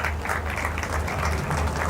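An audience applauds steadily for about two seconds, a dense even patter of many hands at a speech during a housing project balloting event in Islamabad.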